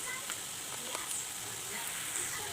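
Onions frying in a pan until golden brown, a steady soft hiss and crackle of sizzling oil with occasional small pops, continuous and close.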